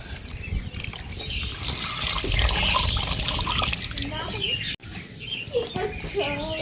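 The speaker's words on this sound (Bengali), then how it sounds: "এইভাবে বারে বারে ধুয়ে নিচ্ছে" Sliced potatoes are rinsed again and again in water in a kitchen to wash off starch, with steady sloshing and trickling close by, a brief pause near the end, and faint birds and farm animals in the background.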